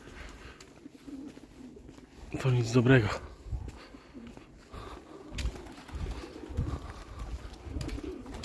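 Pigeons coo in a short burst of soft throaty calls close by, under and between someone speaking Polish, with outdoor background noise throughout.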